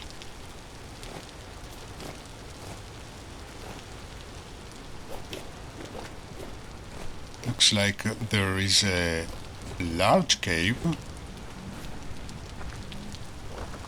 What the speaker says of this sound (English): unfortunately today is a rainy day, so it's a little bit of a pity